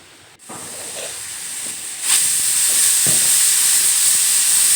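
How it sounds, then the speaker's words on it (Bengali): Steady loud hiss of steam escaping from a pressure cooker whistle while cooking chana dal, starting faintly and swelling sharply after a couple of seconds, then holding constant. "প্রেশার কুকারে তিনটে সিটি দেওয়ার পর"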